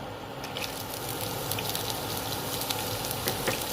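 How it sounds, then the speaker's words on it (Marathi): Green chillies frying in a pan for a restaurant-style paneer keema, a steady close sizzle with faint crackles and no talking. "आपण आता ह्याच्यामध्ये हिरवी मिरची घालून घेऊ"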